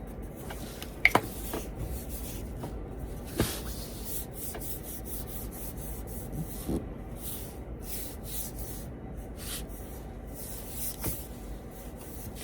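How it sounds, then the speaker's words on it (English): A finger sander working over a piece of 2x4 wood scrap, a steady close rubbing and scraping texture with a few sharper clicks and bumps, no talking. "I'll probably take my sander, my finger sander, and sand it back some"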